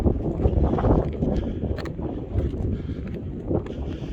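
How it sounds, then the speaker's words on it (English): Strong wind buffets the microphone on an exposed mountain hiking trail in Red Rock Canyon near 6,246 ft, a continuous loud roaring rumble with gusty swells and no voices. "It's going to be hard to hear me because of the wind."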